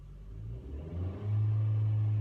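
A car engine idles low, then revs up to a loud, sustained high-pitched whine that holds steady to the end.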